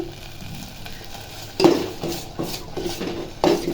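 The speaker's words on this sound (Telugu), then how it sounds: "చూడండి మాడకుండా కలిపేస్తున్నాను" Tricolour kesari sweet is stirred in a pan with a close, repeated rhythm of scraping and clinking spoon strokes, over a soft bubbling sizzle.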